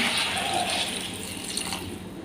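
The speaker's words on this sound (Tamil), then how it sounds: "தண்ணி கொஞ்சம் சேர்த்துக்கலாம்." Water is poured into a cooking pan of potato masala, a continuous soft gushing and splashing that holds steady for a couple of seconds at moderate level.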